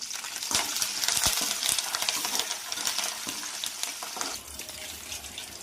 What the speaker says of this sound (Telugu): దోరగా వేగినాక తాలింపు గింజలు వేసుకుందాం